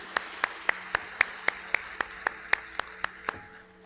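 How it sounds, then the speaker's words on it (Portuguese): A church congregation clapping together in an even, steady rhythm, about a dozen sharp claps at a brisk pace, moderately close, tapering off at the end. "dê um aplauso ao Senhor"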